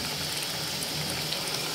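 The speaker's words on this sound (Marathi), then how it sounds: "पाणी पण टाकणार आहे गरम आता" Hot water poured into a pan of misal with boiled matki, a steady close broadband rush of liquid lasting throughout with no pauses or talk.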